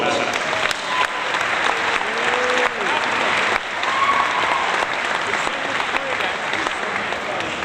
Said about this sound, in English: So give them a bit of applause, folks